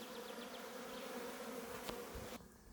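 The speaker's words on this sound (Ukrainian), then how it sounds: "І бджілки теж активно на ньому." Honeybees buzz steadily around wild cornelian cherry blossoms in a ravine, a close, continuous insect hum with no talk, ending in a brief scuffling noise.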